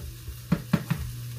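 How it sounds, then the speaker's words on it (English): Someone stirs quinoa simmering in a pot, making three quick, soft scraping swishes close by over a low background hum. "So I'm going to give her a quick stir."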